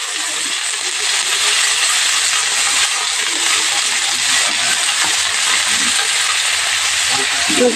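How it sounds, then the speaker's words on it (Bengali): Pointed gourd frying in hot oil in a wok, giving a loud, steady, unbroken sizzling hiss throughout with no pauses. "তেল দিয়েছি কড়াইতে, এবার পটলটা আমি ভেজে নেব"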